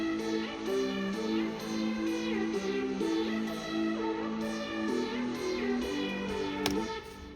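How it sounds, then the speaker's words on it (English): A low synth bass and a lead synth play together in a dance-music production, a steady repeating pattern of sustained tones and bright melodic stabs looping for several seconds, no voices. "So now we have that low synth and that lead. We put them together, they sound like this."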